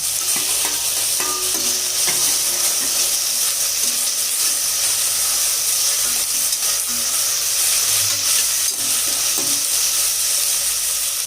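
Tomatoes and masala sautéing and being stirred in a pan for bottle gourd biryani, a steady close sizzle and frying hiss with scraping stir strokes running throughout, no voices.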